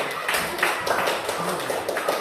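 Classroom pupils clap for a group of classmates, a continuous patter of many small hands filling the room at moderate loudness, with a few voices mixed in.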